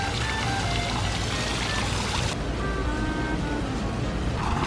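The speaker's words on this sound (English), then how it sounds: "And a water fountain, let's go check that out." A decorative water fountain at a Disney World resort splashes and pours continuously, a loud, steady, close rush of falling water with no talking.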